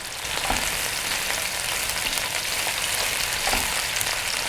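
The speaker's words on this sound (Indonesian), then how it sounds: "Ini minyak bekas menumis dagingnya saya teruskan untuk menumis bumbunya ya." Shallots, garlic, galangal and bay leaf sautéing in reused oil left from frying beef, a steady close sizzle with faint stirring scrapes running throughout, no voices.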